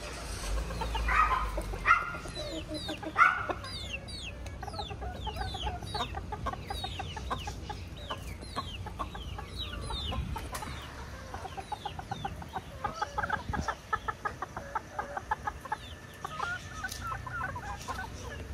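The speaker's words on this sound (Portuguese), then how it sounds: "Elas estão cacarejando muito." A flock of laying hens clucks constantly in a hot coop, with many overlapping short clucks and cackles, some louder bursts near the start and a rapid run of clucking toward the end.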